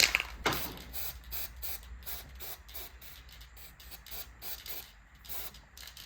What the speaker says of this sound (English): I'm gonna use a copper based spray